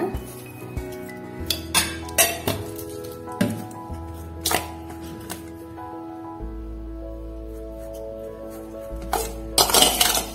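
Spoon clinking against a bowl while sugar is stirred into red rice puttu, a run of light irregular clinks and taps at close range with quieter gaps between them.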